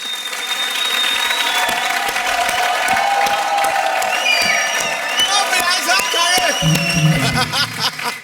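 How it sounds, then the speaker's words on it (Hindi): A large audience at a stand-up comedy show claps and cheers steadily throughout, a dense wash of applause with whoops rising over it near the end. "आप लेडी के आने पर ही ताली बजाते हो"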